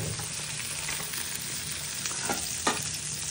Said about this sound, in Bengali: এখানে কিছু চিংড়ি মাছ ভেজে নিব।